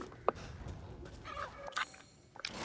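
A rooster in the video game Resident Evil Village clucks and crows in short bursts amid soft background noise, with a few clicks and thuds scattered through.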